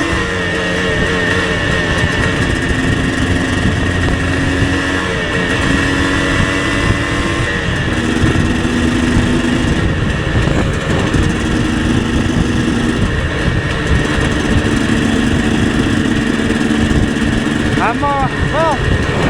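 A freshly rebuilt two-stroke motorcycle engine runs on a street ride, a loud, buzzy, steady drone that rises and falls in pitch through gear changes, with a rider's voice heard over it.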